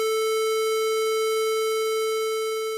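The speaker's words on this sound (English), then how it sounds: "Sawtooth wave." A steady synthesized sawtooth wave tone from a radio drama's sound sequence, holding one fixed pitch with a bright stack of harmonics, loud and alone throughout, easing slightly at the end.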